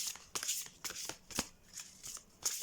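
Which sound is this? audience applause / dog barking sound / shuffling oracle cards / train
shuffling oracle cards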